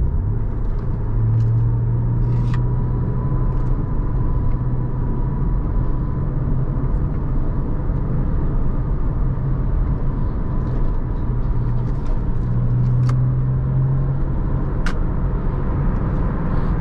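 A 2000 Porsche Boxster S rounds a cloverleaf highway off-ramp, its engine a steady, loud low drone with road rumble and a faint tonal hum, unbroken throughout with no speech.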